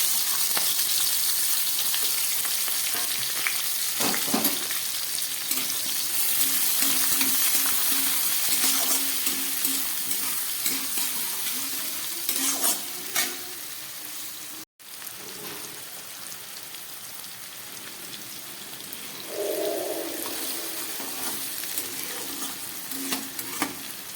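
Chicken pieces and chunky cut onion frying in a pan, a continuous crackling sizzle with stirring scrapes and clinks, steady throughout with a short break partway.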